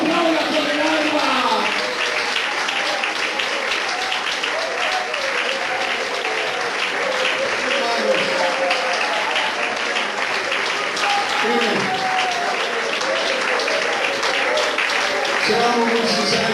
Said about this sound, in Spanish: le pido que lo aplauda con el alma